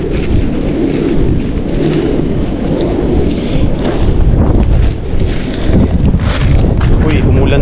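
Rain and wind sweep through a video game, a loud continuous rushing wash with rumbling swells and brief dips, like a stormy downpour heard up close.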